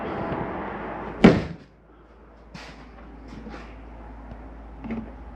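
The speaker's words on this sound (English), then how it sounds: "Let me close our door now." The entry door of a 2022 Jayco Eagle HT 31MB camper swings shut with a single sharp slam close by, followed by quieter clicks and light handling sounds inside.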